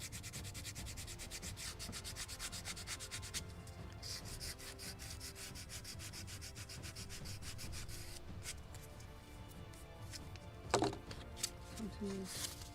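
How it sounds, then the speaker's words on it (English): A sanding block working a curved basswood caprail on a 1776 gunboat Philadelphia ship model: fast, rhythmic, close rasping strokes run steadily, pause briefly, then resume, with a faint tap near the end. "And this is just the best possible sanding block"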